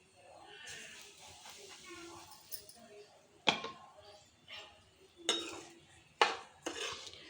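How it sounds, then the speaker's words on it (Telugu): Semolina (rava) roasting in ghee in a pan, stirred with a utensil that scrapes and clinks against the metal in several sharp knocks between softer stirring sounds, with faint talk in the background. "రవ్వ గోల్డెన్ బ్రౌన్ కలర్ వచ్చే వరకు వేపుకోవాలి"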